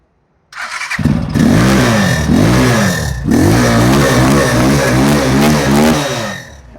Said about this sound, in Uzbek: Mototsiklni yoqish uchun aka, birinchi o'rinda splitni tortasiz